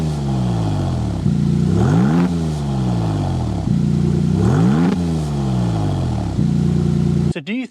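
Maserati MC20 Cielo engine revving hard, repeated rising blips and falling overrun sweeps in a rhythmic cycle, loud and close, ending in a quick sharp burst.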